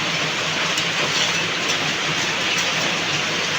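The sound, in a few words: heavy rain falling outside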